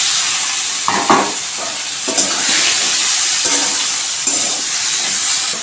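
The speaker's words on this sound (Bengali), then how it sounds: "এখন আমি দিয়ে দেবো ভেজে রাখা কচুর গাঠি।" Fried taro roots being stirred into a sizzling red fish gravy with rohu, loud continuous sizzle broken by several scraping stir strokes, close and without speech.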